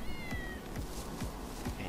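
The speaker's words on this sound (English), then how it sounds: "It's all the damn cats." Several cats meow in short repeated cries inside the Tokyo Jungle video game, set against a steady game soundtrack with a faint high tone near the start.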